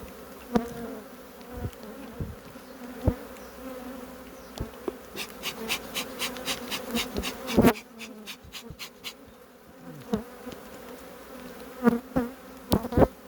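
A large honey bee swarm packed into a trap hive hums continuously, with individual bees buzzing close by in repeated passes and sharp flyby tones; no voices.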